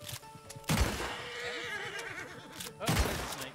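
A horse in the Red Dead Redemption 2 roleplay game RedM whinnies twice in loud, sharp bursts separated by a short gap, heard close with light background noise.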